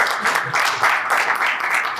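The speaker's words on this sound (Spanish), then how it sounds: "vamos a darle un fuerte aplauso a René" A live audience gives a speaker named René a loud round of applause, dense steady clapping from many hands filling the room with slight swells in intensity.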